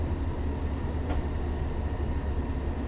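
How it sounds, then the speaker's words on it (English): A train in the Train Sim World 6 video game runs with a steady, loud low rumble and continuous rolling drone, one faint brief squeal standing out near the middle. "We like train noises, yeah."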